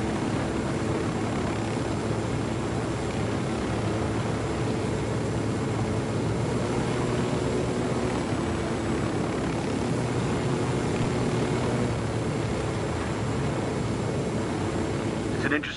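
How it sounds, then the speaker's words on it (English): A custom-built drone flies in Ghost Recon Wildlands, giving off a steady, droning propeller whir that holds unchanged for the full length, continuous and fairly loud against a broad hiss. "It's an interesting drone you have."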